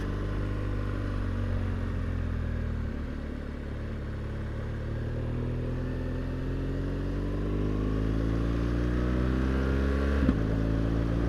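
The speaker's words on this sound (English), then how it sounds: "we're gonna run through the gears with this gear shift assist" A 2016 BMW R1200GS motorcycle with gear shift assist pulls steadily through its gears, the engine drone climbing in pitch over a continuous loud rumble, with a quick shift break near the end.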